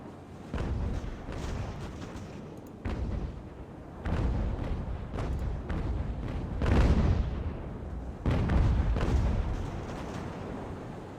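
Naval cannon fire striking a ship's hull in the age-of-sail video game Ultimate Admiral: Age of Sail, heard as repeated heavy booming impacts that roll into each other over continuous rumbling battle noise, with no speech.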